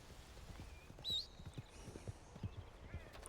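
Horse hooves clip-clop softly in a Red Dead Redemption roleplay, a loose uneven series of faint thuds with a short high squeal, quiet and somewhat distant.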